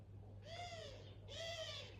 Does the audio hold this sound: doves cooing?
yes